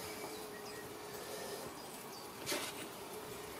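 Honey bees buzz around an open hive during a nucleus split, a faint, continuous hum with a few individual bees passing closer, in a quiet outdoor setting.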